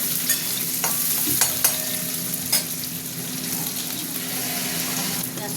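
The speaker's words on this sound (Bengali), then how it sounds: "ভেজেটা বড়িটা পেঁয়াজ দিয়ে দিলাম।" Bori lentil dumplings and onion frying in a pan give a steady, close sizzle with a few sharp stirring clicks and scrapes, heard alone without talk.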